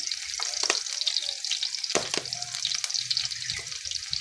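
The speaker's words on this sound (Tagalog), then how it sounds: "Pag mainit ng mantika, sabay na natin yung bawang at saka sibuyas. Gisa-gisa lang." Garlic and onion sautéing in hot oil for mung bean stew, a steady close crackling sizzle with scattered sharp pops and a few utensil scrapes, no voices.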